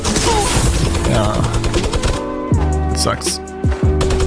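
A hacker's minigun in a shooter game spits a fast, continuous stream of loud gunfire with a few short breaks, while a player talks over it.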